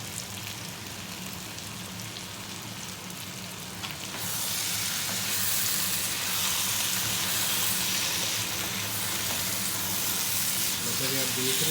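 Eggplant and potato fry in oil in a pot over a high flame, giving a steady rain-like sizzle that grows louder and fuller partway through and then holds.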